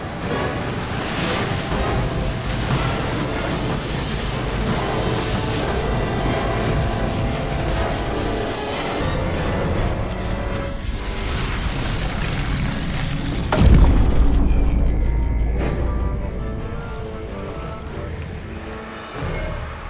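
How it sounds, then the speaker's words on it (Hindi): Towering storm waves crash in an animated sea scene, a dense, loud roar of surf and wind that swells into a heavy booming impact partway through, then slowly subsides. "राजन, ये लहरें तो बहुत ऊंची हैं।"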